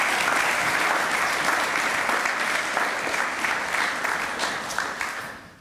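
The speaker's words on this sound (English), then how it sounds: "Let's give a big round of applause to all of our winter sport winners" Dense audience applause for winter sport winners at a school sports achievers' breakfast, steady crowded clapping that fades out toward the end.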